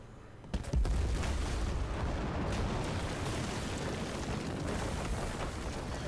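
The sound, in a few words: bridge destruction explosion in Battlefield 4 video game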